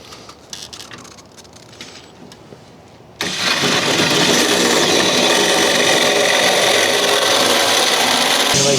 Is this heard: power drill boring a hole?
yes